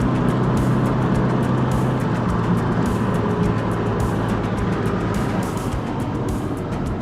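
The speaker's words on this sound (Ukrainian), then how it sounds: "Це газ в пол." Mazda RX-8 accelerating at full throttle, its engine droning loudly and steadily from inside the car with a constant rumble throughout.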